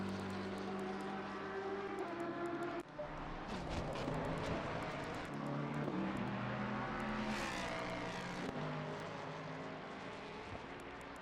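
Racing car engines from a GT race in Assetto Corsa Competizione, a sustained loud roar with rising and falling revs as cars pass and shift, continuous throughout with no talking.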